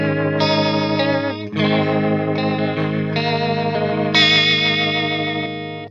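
Sustained electric guitar chords swirling through a Fractal Audio rotary speaker effect, with a warbling, pulsing shimmer as the chords change.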